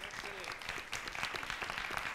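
Audience applause breaks out at an immigration law and policy panel, a brief, fairly faint patter of many hands clapping with voices mixed in.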